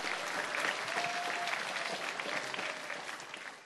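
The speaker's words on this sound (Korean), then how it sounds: "우리 연희중학교 학생 잘하라고 여러분 박수 한번 쳐줍시다" Steady, dense applause from a school audience cheering middle school students at a science quiz event fills the whole stretch, close and even, fading slightly at the end.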